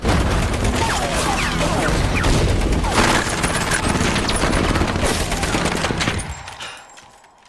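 Heavy gunfire and artillery from a war film battle scene: dense, loud bursts of shots and booms run continuously for about six seconds, then fade abruptly to quiet.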